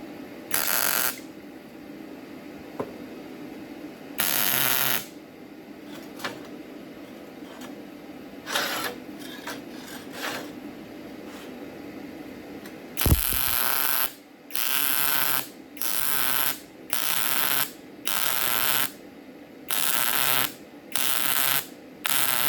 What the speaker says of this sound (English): Some stitch welding just to see about filling that hole.